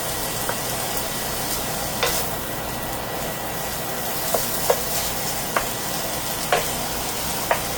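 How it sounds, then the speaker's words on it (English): Breakfast sausage frying in a pan gives a steady, moderately loud sizzle, broken by several sharp clicks and taps of a utensil stirring and scraping, with a fan humming faintly underneath. "we're cooking our sausage"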